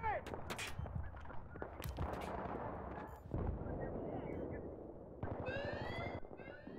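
Gunfire in Battlefield 3 multiplayer: scattered shots and bursts crack out near and far, with rumbling blasts underneath, under a mix of battle noise and muffled voices.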